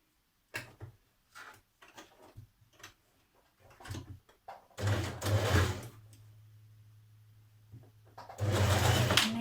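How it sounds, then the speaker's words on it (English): A sewing machine stitches a dress seam, starting with scattered clicks and short bursts, then running in two sustained whirring stretches with a steady motor hum, close by. "now we're ready to stitch it in place"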